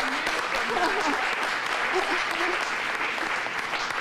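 Sustained applause from an audience at a college State of the Campus address, dense clapping at steady loudness throughout, with a voice faintly audible underneath.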